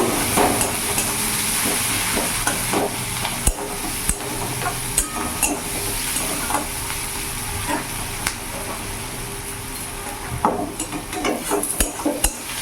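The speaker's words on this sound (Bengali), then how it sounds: "এরই মধ্যে পেঁয়াজ কুচনো দিয়ে দেবো। এটা হালকা করে আমি ভেজে নেব।" Chopped onions frying lightly in a pan over medium gas, a steady sizzle and hiss with occasional stirring scrapes and knocks of the spoon against the pan, close and fairly loud.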